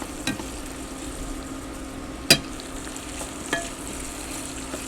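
Sausage with garlic and fennel frying on a stovetop, a steady close sizzle with a few soft clinks of a utensil against the pan, no voices.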